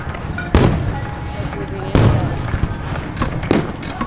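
Fireworks at an Australian Top Fuel drag racing event at Perth Motorplex burst in several sharp, loud booms spaced a second or so apart, each ringing briefly over a noisy crowd and track backdrop.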